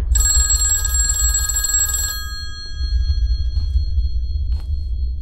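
A telephone rings in the indie horror video game Christmas Nightmare. The bright, trilling ring lasts about two seconds and then cuts off, leaving a low, steady droning rumble underneath.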